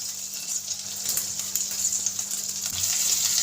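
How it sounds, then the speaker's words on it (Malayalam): Finely chopped ginger and garlic fry in melted butter in a pan, giving a steady, close sizzle with a bright hiss and faint stirring ticks and no talk. "മെൽറ്റായി വന്ന ബട്ടറിലേക്ക് ഞാൻ ഇഞ്ചി ചെറുതായിട്ട് അരിഞ്ഞ് ചേർത്ത് കൊടുക്കുവാണ്."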